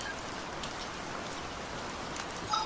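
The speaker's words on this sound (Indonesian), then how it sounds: "Mana hujannya lumayan deras." Heavy rain in the Sakura School Simulator video game hisses steadily and evenly throughout as a dense, continuous downpour of constant loudness.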